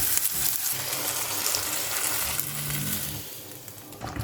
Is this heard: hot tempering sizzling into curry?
yes